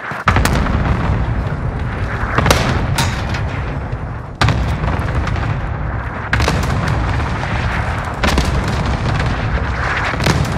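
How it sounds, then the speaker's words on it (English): Cluster strike in Call of Duty Warzone: a rapid series of loud, close booming explosions, several sharp blasts landing one after another over a rumbling background. "Cluster strike away."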